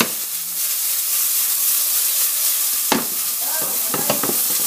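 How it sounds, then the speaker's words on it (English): Wild rabbit sautéing in a hot pan, a loud continuous sizzle and hiss, broken near the end by a few clanking stirs and scrapes of a utensil against the pan. "Now, we're going to saute this."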